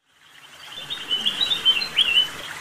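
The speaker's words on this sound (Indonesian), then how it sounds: "Burung kutilang." A sooty-headed bulbul sings a bright, bubbling phrase of chirps and warbles, close and clear with no voices.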